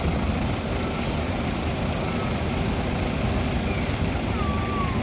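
An MPM bus idles at Terminal Bandar Solok before departing, its heavy diesel engine giving a steady low rumble that continues unbroken, with faint background noise.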